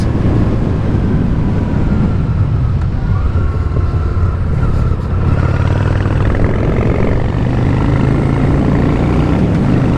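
A Honda Shadow 750 Spirit motorcycle engine runs outdoors in the wind, a loud, steady low rumble that holds evenly for the whole stretch without talk.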